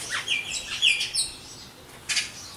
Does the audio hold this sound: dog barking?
no